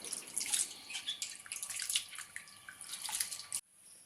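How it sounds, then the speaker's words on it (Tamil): Sloshing and splashing water with small drips and clinks, steady and close, as sliced potatoes are rinsed in a bowl, then stopping abruptly. "2லேருந்து ஒரு 3 தடவை தண்ணி மாற்றி நல்லா கழுவி எடுத்துக்குங்க"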